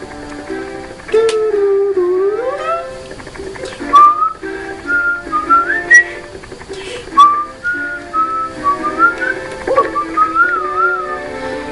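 A person whistles a wandering melody up close for about twelve seconds, loud and clear over faint game music.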